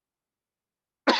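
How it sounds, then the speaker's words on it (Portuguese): A sick lecturer gives one abrupt, close cough after a moment of silence, short and rough at the very end. "Olha eu aqui tossindo"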